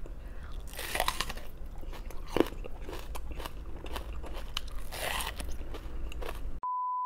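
Raw vegetables including onion crunched close up while eaten during a mukbang: repeated crisp bites and chewing crunches at an irregular pace, with no talk, ending in a short tone.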